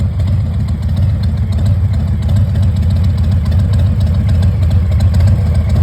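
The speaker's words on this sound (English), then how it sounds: "we've got a 2022 Heritage with a 114 motor" A 2022 Harley-Davidson Heritage Classic motorcycle with a 114 engine idles steadily, giving a loud, deep, continuous rumble that stays even throughout with no talking.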